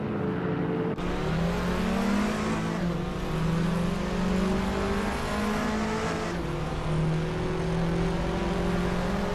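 Race cars in a racing video game jostling for position, engines droning and revving steadily with pitch shifts as cars overtake, a continuous loud blend of several motors with no talk.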